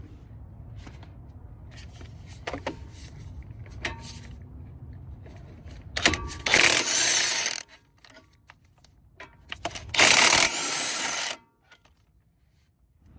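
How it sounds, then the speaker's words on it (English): Ratchet work on the 21mm front brake caliper bolts of an Audi Q7, heard as two loud bursts of rapid metallic clicking over quiet shop background, with softer taps and handling noises between them. "we're gonna go ahead and remove this caliper from the two 21mm bolts right here"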